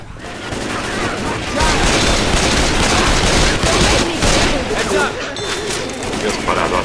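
Sustained gunfire in the zombie shooter Left 4 Dead 2, with dense, rapid shots layered loud and continuous through the whole stretch and players talking over the action.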